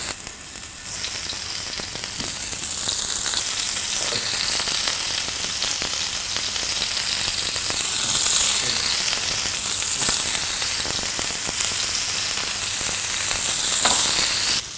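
Chicken kofta meatballs fry in a hot pan with a loud, continuous sizzle and crackle, steady and close throughout, no voices over it.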